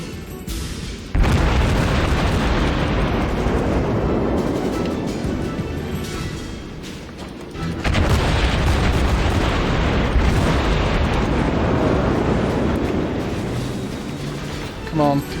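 Naval gunfire and shell explosions in World of Warships boom loudly in two heavy bursts, each decaying into a long rumble, with someone talking over the game sounds.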